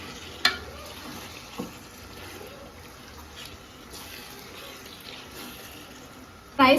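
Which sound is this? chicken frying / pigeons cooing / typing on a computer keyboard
chicken frying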